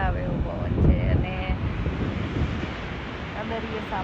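Ocean waves roll and wind gusts at a local beach in Australia, a steady broadband roar with a slight swell near the start, with faint voices in the background.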